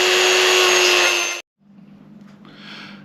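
A power tool sands the roughness off the joined disc of a model locomotive dome, a loud steady whine that cuts off abruptly, followed by a low motor hum with a brief fainter burst of grinding.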